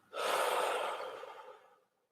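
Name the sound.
person breathing out after a deep breath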